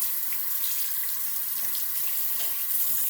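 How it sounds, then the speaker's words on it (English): Tap water running into a sink while a shaving brush is rinsed, a steady close hiss of flowing water with small splashy variations as the brush moves under the stream. "Rinse the brush off a little bit while this is soaking in."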